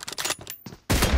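Rapid bursts of gunfire in a PUBG team deathmatch, several quick close shots in an uneven rattle, a brief pause, then a loud sustained blast of fire to the end.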